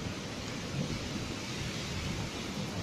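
A heavy afternoon downpour during a storm makes a loud, continuous, dense roar with a low rumbling undertone, close and without any pause.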